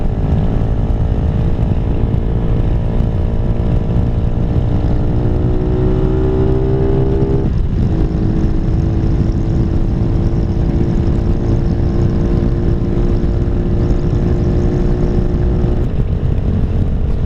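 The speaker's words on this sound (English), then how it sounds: "this little 150cc motor is pretty impressive" A Venom SS3 150cc motorcycle running at speed on an interstate, its small engine whining steadily under heavy wind roar, the pitch sliding through a gear change midway and holding high afterward.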